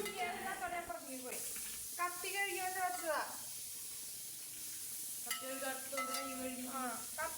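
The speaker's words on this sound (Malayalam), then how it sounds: "പിന്നെ ചേർത്തത് 3 തക്കാളി, അതും കൂടെ ചേർത്തിട്ട് നല്ല പോലെ തന്നെ വീണ്ടും വീണ്ടും വഴറ്റി" Tomatoes sautéed and stirred in a pan for Kerala-style pepper chicken: a steady close sizzle with scraping stirs, under a voice speaking over it most of the time.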